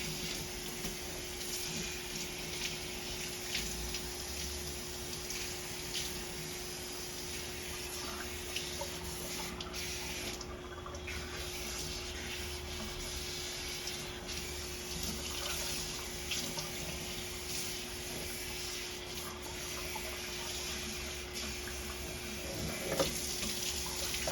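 A tap runs in a steady continuous stream as shampoo is rinsed out of hair, with a constant rushing hiss that stays fairly faint and even the whole time.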